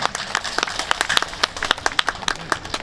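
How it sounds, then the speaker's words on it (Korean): Audience applause at an outdoor ceremony of a neighborhood volunteer crime-prevention patrol association: a crowd claps in a loose, uneven patter with sharp individual claps standing out, steady and moderately loud for about three seconds. "힘찬 박수 부탁드리겠습니다"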